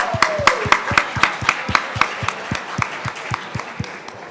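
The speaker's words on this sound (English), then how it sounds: "So can we please give a round of applause to our advisors?" Scattered audience applause at a leadership luncheon, a few distinct hands clapping in a steady, fairly even rhythm, moderately close and not very loud.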